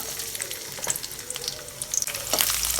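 Garlic cloves, cut in halves, fry in plenty of hot oil in a kadai while making anchovy dry fish thokku, giving a steady close sizzle with crackling pops that swell louder toward the end.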